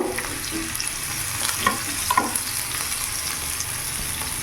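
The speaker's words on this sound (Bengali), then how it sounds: "হালকা একেবারে ভাজবো, বেশি ভাজবো না।" Chopped green chillies fry lightly in hot oil in a pan, a steady sizzle broken by scraping stirs of a spatula, close up over medium gas flame with no voices.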